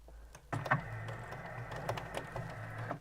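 A sewing machine runs a short back stitch along a sleeve cuff, starting abruptly and whirring steadily and close for a couple of seconds with light mechanical rattling.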